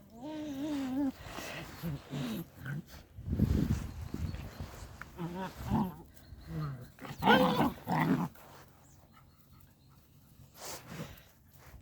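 Two dogs outdoors on a hot day, panting, moving about and growling softly at close range while a person speaks to them.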